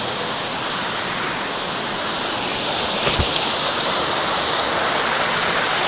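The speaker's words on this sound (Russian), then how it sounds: "И водопадик еще небольшой. Каскад просто." Steady rushing of a small cascading waterfall in eastern Abkhazia, a constant broad wash of falling water heard close up, with no voices.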